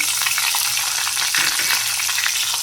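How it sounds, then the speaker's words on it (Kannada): Curry leaves and onion fry in hot oil in a pan, a close, loud, steady sizzle with faint crackles throughout and no voices. "ಈಗ ನಾನು ಕರಿಬೇವಿನ ಸೊಪ್ಪು ಹಾಕ್ತಾಯಿದ್ದೀನಿ ಮತ್ತು ಈರುಳ್ಳಿ ಹಾಕ್ತೀನಿ"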